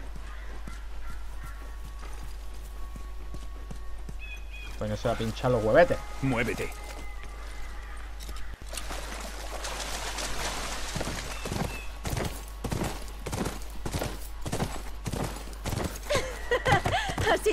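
Horse hooves in The Last of Us on PS4, rhythmic clip-clop beats growing louder and denser toward the end, with someone talking briefly partway through.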